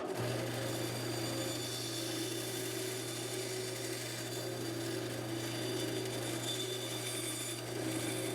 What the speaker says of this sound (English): So I'll skim most of it off with the bandsaw.